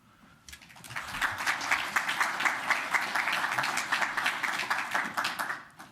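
Sustained audience applause at a university investiture ceremony, honoring a family member, building within the first second into dense, steady clapping from a large crowd that continues evenly throughout.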